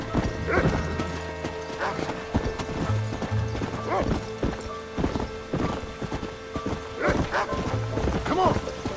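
Hooves clip-clop in a quick galloping rhythm as a horse runs in the Red Dead Redemption video game, with occasional snorts and a voice urging it on.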